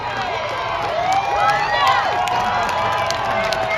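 A festival crowd at a tractor pull cheering and shouting for a competing team, a dense continuous roar of many voices with whistles and yells, loud and near, with an announcer's voice mixed in.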